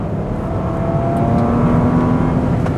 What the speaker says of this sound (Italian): si può spostare che devo far sentire l'accelerazione